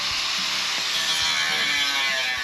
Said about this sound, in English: Starting with the stock gas tank skid plate, cut the appropriate mounting gear off.